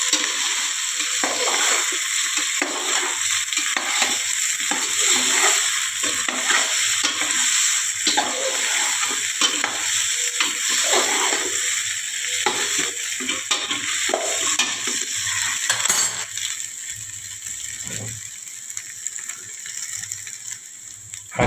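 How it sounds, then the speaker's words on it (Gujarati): Dudhi muthiya mixture being stirred in hot oil with a spatula, steady sizzling and frying hiss with repeated rhythmic scraping strokes, no talking. "અને તેને તવેથા વડે હલાવી દઈશું"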